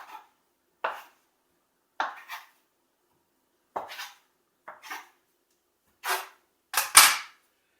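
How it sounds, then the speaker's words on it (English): A knife cuts wheat flour tortilla dough into eight portions, striking the board in about a dozen sharp, close knocks, some paired, separated by silence. "I'm going to cut this up into 8 tortillas"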